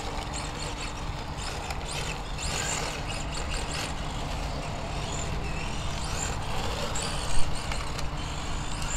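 Tamiya MB01 Fiat Abarth 1000 TCR radio-controlled car with a Team Powers Cup Racer motor running on tarmac, a continuous whining buzz that rises and fades as it passes, with one brief louder bump.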